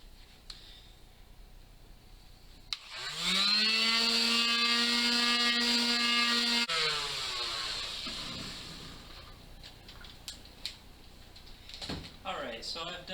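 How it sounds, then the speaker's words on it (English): An electric palm sander rough-sands two wooden banjo kit pieces clamped together, spinning up to a steady whining drone for several seconds and then winding down, close and loud, with someone talking before and after. "I speed it up a little bit with a palm sander, at least for the initial rough sanding."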